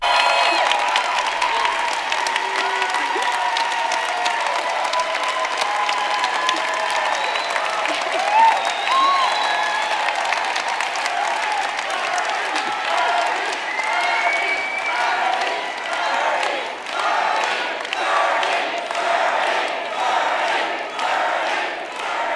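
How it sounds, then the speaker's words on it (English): Large political rally crowd giving Bernie Sanders a long ovation, loud sustained applause and cheering with shouts, swelling into rhythmic chanting toward the end. "That's quite an ovation they give Bernie Sanders."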